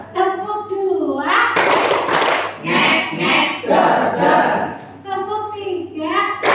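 A group in a classroom or training session claps hands in a short rhythmic pattern, loud bursts of several quick claps in succession, set between spoken prompts.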